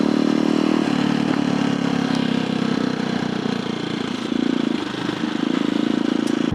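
A CCM motorcycle engine runs close by, a steady throaty idle with a dense mechanical clatter that holds level for several seconds, swelling slightly near the end, with no talking.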